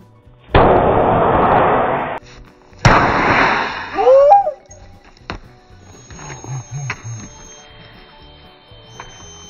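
A Hit Air airbag vest fires during a crash test with a loud, sudden burst, a hissing rush of inflation, then a second blast, followed by quieter rustling and movement nearby.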